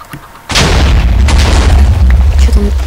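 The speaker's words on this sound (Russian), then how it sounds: "Что там опять взрывают?" A sudden, loud Minecraft explosion, likely a Creeper, bursts in and leaves a deep rumbling roar that lingers, with faint crackles trailing off.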